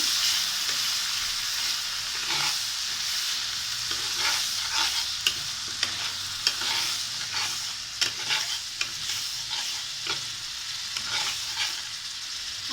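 Mustard masala being stirred and fried in a pan for Bengali shorshe ilish (hilsa fish), a steady close sizzle with repeated scraping stir strokes throughout.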